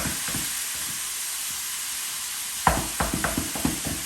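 Ground meat for a cottage pie fries in a pan with a steady, close sizzle; partway through, a series of sharp knocks and scrapes from a utensil breaking up the meat cuts in over the hiss.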